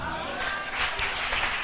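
Church congregation applauding in thanks, a dense steady wash of clapping that swells slightly midway, with faint voices mixed in.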